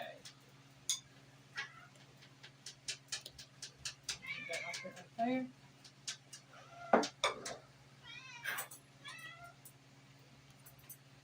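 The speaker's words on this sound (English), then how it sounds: "Sounds like we got kitty cats that won't time to tell you, say, feed me, feed me." Several cats meow repeatedly, some close and loud, others softer, with brief talk from a person in between over a steady low hum.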